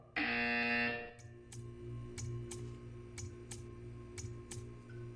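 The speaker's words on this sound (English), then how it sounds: "You will hear a buzzer" A loud, steady electronic buzzer from the Portal 2 video game sounds for about a second, then gives way to a low hum with faint, evenly spaced ticks.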